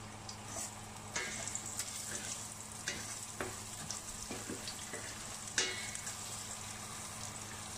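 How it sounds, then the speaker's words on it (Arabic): Rice browning in oil in a pan, a soft continuous sizzle with occasional stirring scrapes and small crackles, close by and fairly quiet, with no talk. "هاخد تقريبا نص كمية الرز اللي عندنا وهحطها الاول تحمر"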